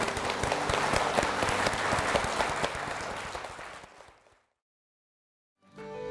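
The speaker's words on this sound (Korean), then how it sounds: "주님께 영광의 박수 올려드리겠습니다" A church congregation claps in praise, a dense round of applause that fades out over about four seconds. Silence follows, then a new sound begins.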